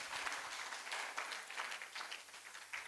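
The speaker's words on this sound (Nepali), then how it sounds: "एकअर्काको लागि एकछिन ताली बजाएर हामी" A wedding audience claps steadily to welcome the bride and groom, a dense, moderately distant wash of applause holding evenly throughout.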